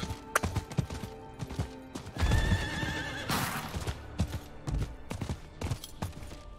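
A horse in the Diablo 4 video game whinnies loudly, with clopping hooves in an irregular rhythm around the neigh and scattered game effects over quiet background music.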